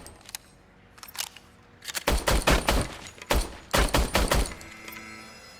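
A service weapon fires in rapid bursts on a range in Robocop Rogue City, with a few scattered shots first and then two loud, clustered volleys of sharp cracks, no voices.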